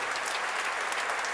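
An audience at a Christmas concert applauds in a dense, steady wash of clapping, brief and fairly loud with no voices standing out.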